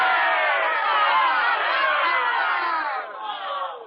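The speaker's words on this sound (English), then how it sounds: "Let me hear, for our good counselors, a thunderous cheer." A large crowd roars a loud, sustained cheer in a 1958 Pied Piper of Hamelin production, a dense wall of many voices that stays full and steady before tapering off.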